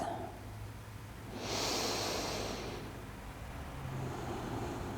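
Slow, steady breathing during a yin yoga stretch, a long soft exhale swelling for about a second and a half before fading into quiet room hiss, alone with no talk.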